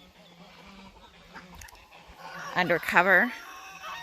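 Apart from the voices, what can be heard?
ducklings calling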